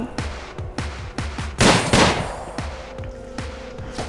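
Rapid bursts of gunfire crackle through a prison shootout in the video game Prison Architect, with short volleys repeating every half second or so and two heavier, louder blasts in the middle.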